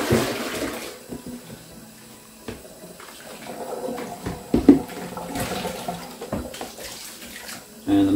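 Warm water runs steadily from a tap while a telescope mirror is rinsed, with uneven splashing and a few louder bursts toward the end.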